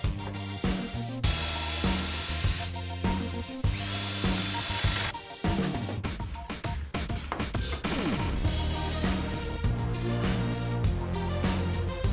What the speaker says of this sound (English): if I flipped one piece onto the jig to drill the holes